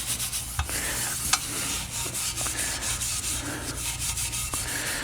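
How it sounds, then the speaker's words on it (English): Fine steel wool scrubbing a Porsche Dundon exhaust treated with Ospho, a steady close-up rubbing and rasping texture with a few sharper scrapes and no voices. "because we're using this really fine stainless or steel wool, we're not abrading, we're not scratching the surface"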